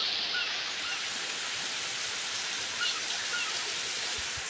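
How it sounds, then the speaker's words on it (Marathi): Heavy rain falling steadily outdoors, a dense even hiss that stays close and loud with no voices over it. "पावय कशी कळटा."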